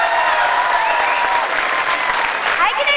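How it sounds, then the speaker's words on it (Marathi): A stage audience at a singing competition grand finale claps loudly and continuously for the team captain, a dense, steady wash of applause with no pause. "एकदा जोरदार टाळ्या आमच्या कॅप्टनसाठी."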